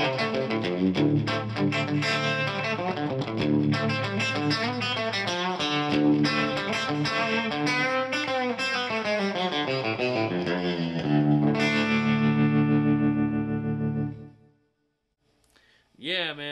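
An electric guitar plays a quick picked passage through a pulsing RevivalTREM Bias Tremolo pedal effect, distorted and close, then rings out and stops before a brief final note.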